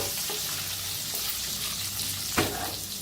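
Chilies frying in a pan while being stirred: continuous bright sizzle with soft scraping of the spoon and a sharper clatter near the end, no voices.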